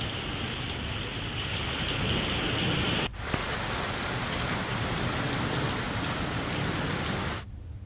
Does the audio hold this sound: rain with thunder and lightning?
yes